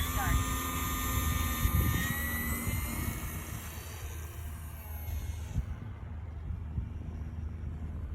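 A light airplane, a low-wing aircraft, roars at full power as it takes off again for another circuit, a steady close engine drone with wind buffeting that thins out near the end, under speech.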